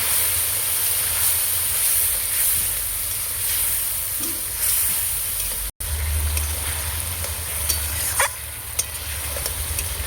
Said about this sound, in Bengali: হলুদ ভালো করে কষিয়ে নেব